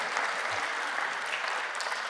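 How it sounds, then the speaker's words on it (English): An audience at the Adobe Creative Cloud event in Toronto in 2014 gives a short burst of steady, moderately distant clapping, with no voices over it. "Yeah, you can clap."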